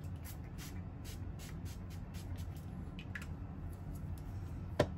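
Short hissing bursts of Tim Holtz mica spray misted onto a Christmas background card, about a dozen quick puffs in an irregular rhythm, close and fairly faint over a low room hum.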